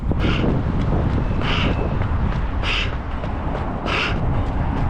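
A headwind off a river blasts straight into the microphone during an outdoor exercise outing, a loud constant rumbling roar broken by four evenly spaced high cries that sound like a crow cawing.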